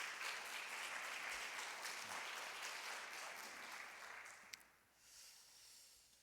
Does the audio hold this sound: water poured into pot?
no